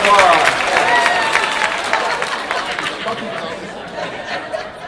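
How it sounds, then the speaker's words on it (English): Applause at a live creativity presentation, loud at first and gradually tapering, mixed with crowd chatter and some laughter. "How about giving an extra round of applause?"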